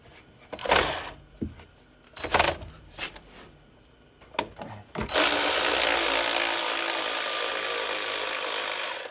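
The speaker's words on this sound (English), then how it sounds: "we're going to take this 10 millimeter bolt out of here" Power tool loosening a 10 millimeter bolt on a Ford Edge brake line bracket during a front wheel bearing job, starting after a few knocks and scrapes, then running steadily and close for several seconds.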